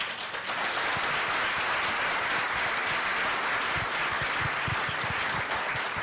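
A steady, full round of audience applause for a panel fills the room for about six seconds, unbroken and fairly close, with no talking over it.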